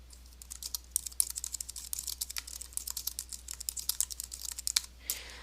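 Rapid typing on a computer keyboard while a post is written, quick uneven bursts of close clicking keys that run for several seconds with a short pause near the end.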